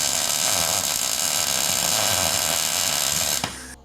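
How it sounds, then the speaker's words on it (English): A high-pitched drill whines steadily and loudly as it bores holes in metal, then cuts out abruptly near the end, leaving a fading rumble. "Drill some holes in there"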